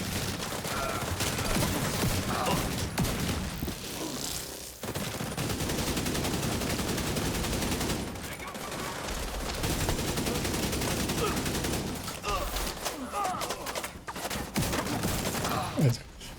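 Gunfire in a video game shooter with a sniper nearby: sustained, dense bursts of rapid shots that break off in several short pauses, with scattered talk over the shooting.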